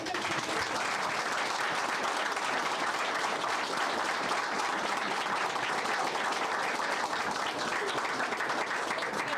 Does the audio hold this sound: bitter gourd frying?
no